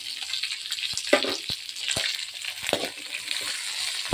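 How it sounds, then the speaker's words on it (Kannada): Mustard seeds and chana dal sizzle and pop in hot oil for a beetroot palya, a steady close frying hiss broken by sharp crackling bursts, with no voices. "ಸಾಸಿವೆ ಸಿಡಿತಾ ಇದೆ."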